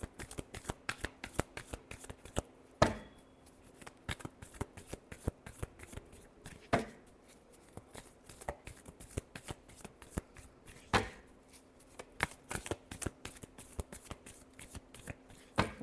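Tarot cards being shuffled by hand, a quick run of crisp flicking riffles with a few louder slaps as the deck is squared, close and quiet with no talking.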